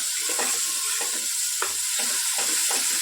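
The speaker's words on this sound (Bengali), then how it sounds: "ভালো করে মশলাটা কষিয়ে নেব।" Onion, garlic, chilli and tomato spice paste sizzling and frying steadily in a pan for dried fish bhuna, with a constant close hiss and occasional stirring scrapes; no voices.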